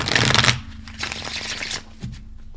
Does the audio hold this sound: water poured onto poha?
no